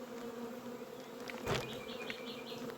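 Honeybees swarm in numbers around their hive, a continuous steady buzz of many wings with a slightly louder pass of a bee close by midway.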